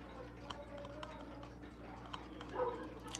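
Faint, scattered dog barks and yips come from a distance at home, the loudest arriving near the end over a low steady hum.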